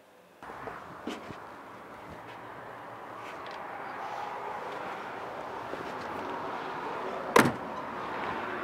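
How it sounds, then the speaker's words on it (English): The heavy door of an old Scammell truck slams shut once with a sharp, loud bang near the end, after several seconds of soft rustling, a low idle-like background rumble and a couple of faint knocks. "How many times have you closed the door like that?"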